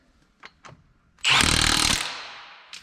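An impact wrench fires one loud, close burst of under a second while tightening the mounting bolts of a generator on a farm planter, with a few faint knocks just before it.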